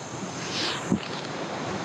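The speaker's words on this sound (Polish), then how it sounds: "Chciałem zobaczyć, jak wygląda wezbranie na rampach." A swollen river in flood rushing over river ramps, heard as a steady, broad roar of churning water with a brief thump, loud and continuous, with no talk.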